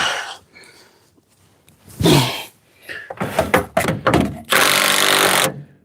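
Hand tools work on the engine of a 1968 Thunderbird during engine and transmission removal, with several loud clanking and scraping bursts of metal on metal near the microphone, the longest near the end.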